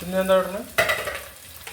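Ingredients frying and being stirred in a pan for a Palakkad-style Kerala fish curry, a sizzle with scraping stir strokes, close by, under a brief spoken question.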